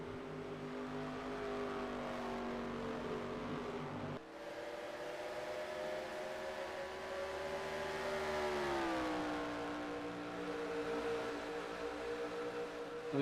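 Race cars in a final-round event accelerating hard around the track, a loud continuous engine drone whose pitch holds, then sweeps down and settles, steady and close throughout with no talk.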